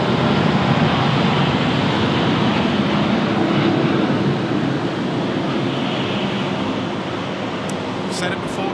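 Heavy rain at Sydney Airport, with aircraft noise blended into a steady, loud broadband roar of downpour that stays constant throughout, a faint higher whine appearing near the end.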